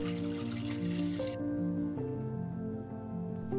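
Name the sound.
pouring water into a pot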